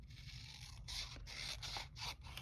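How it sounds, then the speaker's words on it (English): Scissors trim a paper color swatch for a botanical junk journal page, giving a few short, quiet snips and scrapes close by in a soft, hushed setting, with no talking. "trim off that color swatch right now"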